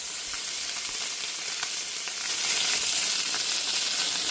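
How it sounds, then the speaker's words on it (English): Duck pieces sear skin side down in a hot pan with a steady, close frying sizzle that swells louder partway through, with no voices. "Skin side down. And then let those sear for a minute."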